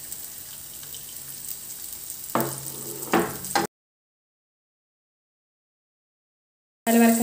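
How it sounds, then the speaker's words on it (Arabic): Flour-dusted fish fries in a pan with a steady close hiss and sizzle, swelling in two brief bursts before cutting abruptly to silence. "من بعد ما كنوضع السمكة كاية في المقلاة"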